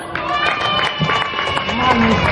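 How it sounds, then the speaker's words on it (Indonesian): Audience applause at a provincial government talk show session, a dense crackle of clapping from a seated crowd with voices and background music running underneath. "Sekali lagi tepuk tangan dulu untuk Duku Manis."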